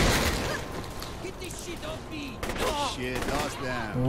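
Upgraded pistol firing in Saints Row: The Third, a rapid series of sharp shots and bursts mixed with game noise, with a voice talking over much of it.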